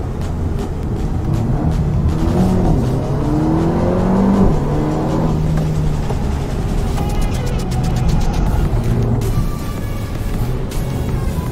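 A Mercedes-AMG car works hard around a race track, its engine droning loud and steady with shifting pitch as it accelerates and brakes through corners, tires working under load with no talk.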